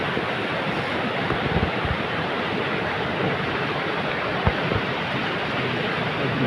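The Ganges flows in the Himalayas beneath a trolley crossing near Gomukh, a steady broadband roar of rushing water mixed with wind buffeting the microphone, constant and loud throughout without speech.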